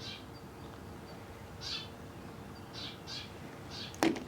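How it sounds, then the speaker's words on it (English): A forest bird in a Japanese nature park gives a few soft, spaced calls at moderate distance, with a sharper, louder call near the end over quiet outdoor background. "Do you hear this bird?"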